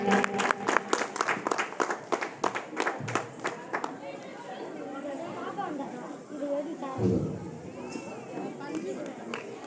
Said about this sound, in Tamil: தயவு செய்து திரும்ப நல்லா ஜோரா கைத்தட்டுங்க